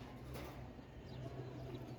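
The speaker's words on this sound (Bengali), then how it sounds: "হ্যাঁ এটা নর কবুতর" A silver male pigeon coos softly in a faint, brief sound against a low background hum.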